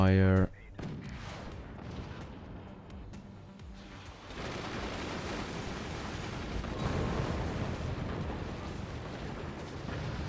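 Artillery firing in the strategy game Forts: heavy booming shots and rumbling impacts that build into a sustained, dense barrage, with someone talking over the opening.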